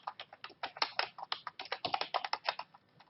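An account name is typed on a computer keyboard: a quick, close run of light key clicks in an uneven rhythm for about three seconds, alone and without talk.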